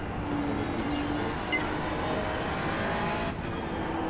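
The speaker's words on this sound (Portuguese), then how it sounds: "Fica acelerando." Racing game car engine at full throttle on the Spa circuit, a steady dense roar holding constant for the whole stretch with no clear pitch rise, loud and continuous.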